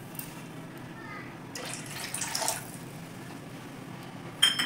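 Water poured into a pot, about two and a half cups, while making Maharashtrian masvadi rassa: a short splashing gush midway through a faint, steady kitchen background.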